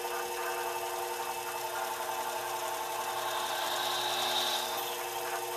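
Steady mechanical whir of a Sherline lathe running as a center drill bores into a part, a continuous even hum with a faint rising squeal.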